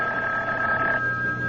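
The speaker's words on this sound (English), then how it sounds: "when I wasn't even thinking about the phone, it rang" A telephone rings with a steady, close electronic bell tone that holds through the moment and eases off toward the end.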